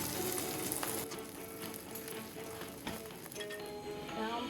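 An egg fries in a pan for a Ghanaian breakfast, giving a steady broadband sizzle with occasional clinks and stirring scrapes, close and continuous throughout with no speech.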